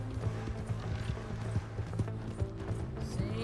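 Galloping horse hooves in Red Dead Redemption 2, a quick irregular series of dull thuds over a steady background hum, moderately loud with no voices.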